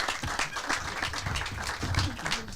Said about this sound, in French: On applaudit Kino